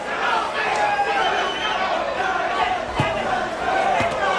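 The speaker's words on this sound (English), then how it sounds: "And the crowd, again, showing its both appreciation and support for Jose Ribalta." A boxing arena crowd at the Jose Ribalta versus Mike Tyson fight roars and cheers in a dense, continuous wall of noise, with a ringside commentator talking over it.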